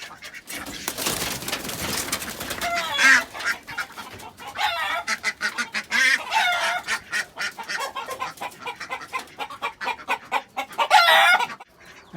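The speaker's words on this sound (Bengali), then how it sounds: "ডিম পাওয়ার জন্য একটা মুরগি বসে পড়েছে অবশ্যই" Hens cluck and other fowl call on a rooftop poultry farm where ducks and pigeons are also kept, a busy stream of close, overlapping squawks and cackles with a few louder honking bursts.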